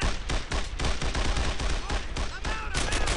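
Rapid gunfire in the World War II shooter Brothers In Arms: Earned In Blood, a dense burst of overlapping shots crackling throughout, loud and close, with whistling ricochets near the end.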